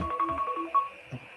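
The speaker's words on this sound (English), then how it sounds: "pardon me, that was my alarm clock" An alarm clock rings with a short electronic tone pattern, a bright beeping melody lasting about a second, followed by a faint low thump.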